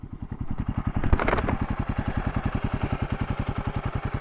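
A Royal Enfield Himalayan 450 motorcycle engine runs close by with an even, rapid thumping pulse, a short rev swell early on before settling back to a steady idle.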